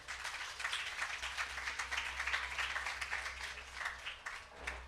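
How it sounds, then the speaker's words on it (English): An audience at a children's village groundbreaking ceremony applauds steadily for several seconds, a dense, moderately close wash of clapping that thins slightly at the end. "these folks can applaud you for the work you do"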